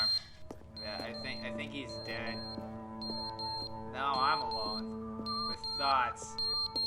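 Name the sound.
smoke alarm beeping in The Stanley Parable video game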